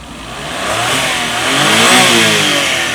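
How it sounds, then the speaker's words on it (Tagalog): A minivan's small 660cc turbocharged Suzuki K6A engine revs up close by, climbing and falling in pitch with a buzzy, throaty tone over a few seconds. "Yung makina natin is a K6A engine,"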